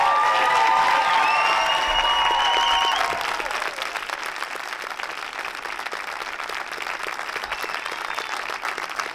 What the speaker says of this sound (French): j'aimerais vraiment qu'on les applaudisse tous encore une fois haut et fort